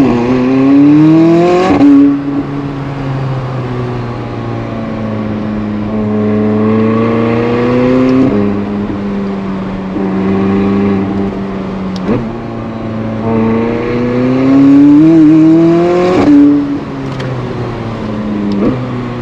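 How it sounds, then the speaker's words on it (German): A McLaren 600LT Spider sports car drives close by, its engine revving up and dropping back several times in rising and falling sweeps, loud and near, with no talking. "Aber ich springe jetzt im 600 LT und fahre hinterher."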